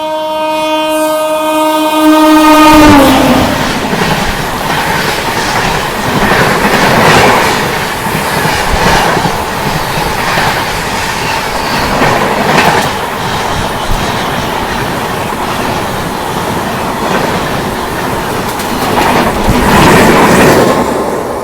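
Jalpaiguri Road–Sealdah Humsafar Express in India, opening with a loud sustained horn blast, then continuous rumbling and clattering of the running train on the rails.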